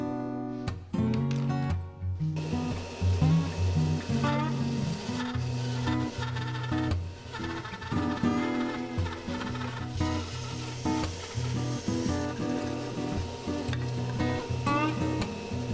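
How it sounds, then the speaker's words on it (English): A bandsaw fitted with a sharp blade cuts a wooden wedge for a tablet wall stand, a close mechanical hum and rattle with the blade's rasping pitch rising and shifting in uneven bursts as the cut progresses. "Bandsaw with a nice blade makes easy work of this."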